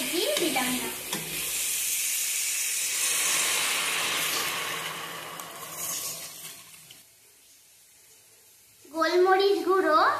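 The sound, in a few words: water added to lightly fried chicken for soup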